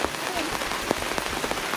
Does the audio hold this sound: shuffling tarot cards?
no